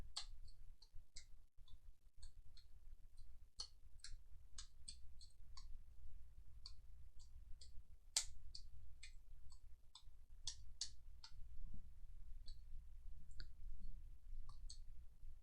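Sharp plastic clicks from a wireless keyboard, tapped in quick irregular bursts with short pauses, close and fairly quiet over a low steady hum.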